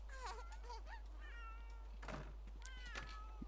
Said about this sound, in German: Eine Katze? Wo ist denn hier eine Katze?